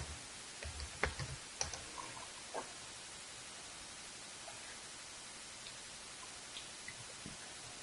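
A few faint, scattered keystrokes on a computer keyboard as a username and password are typed at an Exchange 2013 admin login, clustered near the start over a steady hiss, with no talking.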